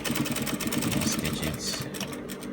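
A sewing machine stitches turtleneck fabric in a continuous fast mechanical whir with rapid needle ticking, close and steady, with talk over it.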